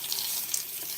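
Water running from a sink tap as a face is wetted, a steady close hiss of splashing flow with no voices.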